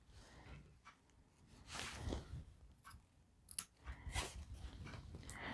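Scissors cutting around printed fabric for an iron-on appliqué patch: a few quiet, close snips and crunchy cuts come in uneven bursts.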